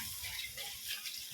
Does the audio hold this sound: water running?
yes